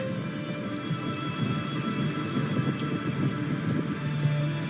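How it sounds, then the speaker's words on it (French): Rain falls steadily during a violent thunderstorm over Québec, a dense close patter of drops with a low rumble running underneath, constant and unbroken with no voices. "un violent orage éclate sur Québec qui va durer toute la journée et toute la nuit"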